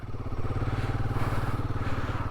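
A motorcycle engine labours steadily uphill on a rough mountain trail, a close, loud, throbbing rumble with no voices.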